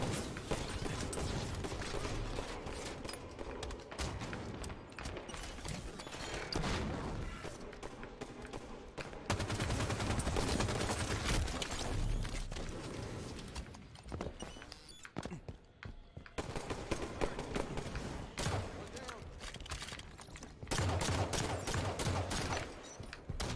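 Gunfire rattles continuously in the Halo video game, with dense bursts of shots, mechanical clicks and clatter that run loud and steady, briefly dipping near the middle.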